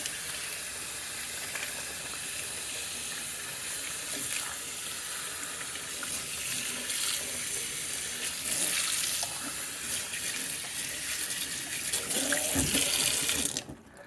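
A tap runs steadily into a sink while a smoking pipe is rinsed, making a constant close hissing splash that stays fairly loud throughout and cuts off abruptly at the end.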